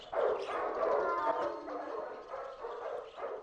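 Dogs bark and yelp in Silent Hill 4, blended with eerie ambient game sounds in a steady, dense layer with no talking over it.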